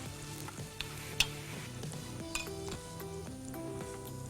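Steady sizzling of tempering spices frying in hot oil, with occasional clinks of a utensil against the pan; no voices.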